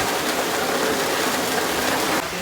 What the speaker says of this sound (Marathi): बाहेरचा पाऊस बघा बेकार पडतोय भरपूर पाऊस